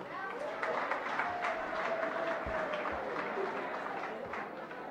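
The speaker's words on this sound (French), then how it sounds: "Est-ce qu'on peut applaudir quand même?" An audience at a Congolese political gathering claps in a loose, moderate round of applause, fairly distant, with a voice talking faintly underneath.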